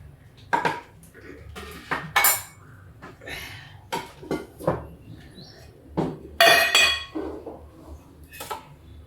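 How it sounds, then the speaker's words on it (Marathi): Metal pots and utensils clank and clatter in a series of sharp, separate knocks, as cookware is set down and moved around close by. "तर सगळ्यात आधी पातेलं ठेवते."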